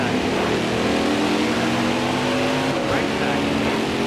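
NASCAR race cars roar around the Charlotte Roval in NASCAR Heat 5, a constant loud engine drone with shifting revs as the pack accelerates at the green flag, with a voice talking over it.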